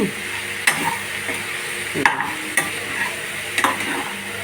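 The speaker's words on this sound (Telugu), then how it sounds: "ఇలా ఒకసారి కలదిప్పుదాము" Ridge gourd and prawn curry is stirred in a pan, with several sharp spatula scrapes and clacks over a steady sizzle, close and alone without speech.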